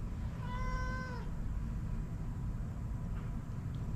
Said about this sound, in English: You're just gonna sit down there and meow?